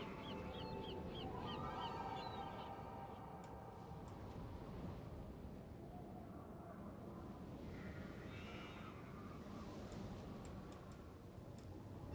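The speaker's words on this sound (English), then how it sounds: "Wonder what that crow's doing in there." Crow cawing in the Nancy Drew game The Haunting of Castle Malloy, a few harsh calls early on over a steady bed of loud ambient game noise with no talk.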